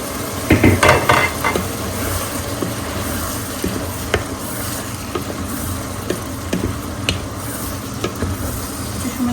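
Vegetables and onions frying in a pan, a loud close sizzle and crackle throughout, with a burst of clattering at the start and occasional knocks and scrapes of a utensil stirring, no talking.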